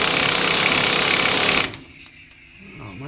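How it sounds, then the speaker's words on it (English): An impact wrench hammers on the rear axle pinion nut of a 1973 Jeep CJ-5, a loud rapid rattling burst that cuts off sharply after about a second and a half and leaves quieter shop background. "better turn the impact wrench the right way"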